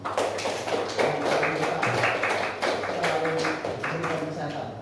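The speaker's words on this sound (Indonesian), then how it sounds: "tepuk tangan kita semua" Group of students in an Islamic religious education classroom clapping together in a steady burst of applause, loud and close, with a voice talking over it.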